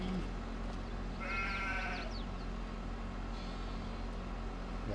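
A single sheep bleat in Farming Simulator 22, a short wavering call rising over a steady low engine hum, followed by a fainter second call.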